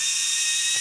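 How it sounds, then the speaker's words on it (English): A power drill bores a channel into metal beams while electrical conduit is fitted in a shed, a loud, steady high-pitched whine that cuts off abruptly at the end. "I guess I'm drilling a channel between the seams."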